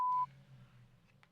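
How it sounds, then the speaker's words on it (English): A single short answering-machine beep on a U.S. Marshal's office phone sounds once, clear and close, then cuts to a faint low hum of an open line with no voice. "Leave a message after the beep."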